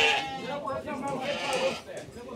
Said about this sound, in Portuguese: Olha o bodão aí.